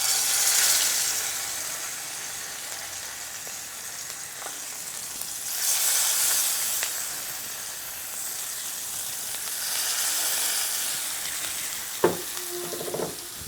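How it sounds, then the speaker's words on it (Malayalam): Masala-coated fish laid in hot oil in a pan for a Kerala-style fish fry sizzles loudly and continuously, with a brief sharp clatter near the end. "ഇനി ഈ ചൂടായ എണ്ണയിലേക്ക് നമ്മൾ മസാല പുരട്ടി വെച്ചിരിക്കുന്ന മീൻ പറക്കി നിരത്തി കൊടുക്കാം."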